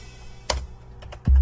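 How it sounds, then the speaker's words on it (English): A few light computer keyboard key clicks land close by, triggering drum samples in DubTurbo beat-making software, followed at the end by a sudden heavy low thump like a drum hit. "What you heard there was me pressing the keyboard and it triggered our sounds."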